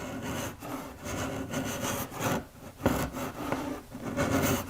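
Hand scraper blade, a quarter inch wide, cutting a groove along the edge of a wooden tabletop with the grain, giving repeated rasping back-and-forth strokes in an uneven rhythm, close and with no talk.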